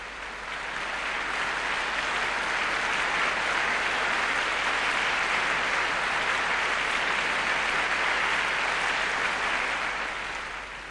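A concert audience applauds after a Mozart minuet played by a flutist with a pianist: steady, dense clapping from a large hall that swells in and holds evenly, with no voices.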